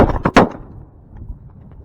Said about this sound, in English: Shoot him again, Dad. Shoot him again.